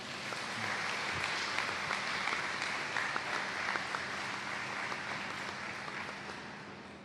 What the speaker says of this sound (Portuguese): pedia uma salva de palmas